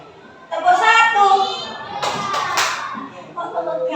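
A group performs the 'tepuk satu' clapping routine at a school gathering, a few sharp claps breaking through voices chanting and talking around them.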